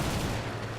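Fiat G55 fighter guns firing in War Thunder, a steady, dense rattle of rapid aircraft gunfire that holds loud and unbroken for the whole short burst.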